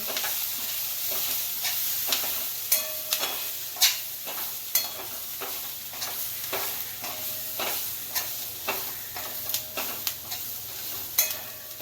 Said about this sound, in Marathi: आणि हे हलवून आता घेत राहायचे, सारं हलवायचे.